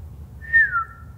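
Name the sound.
voice imitating a whistle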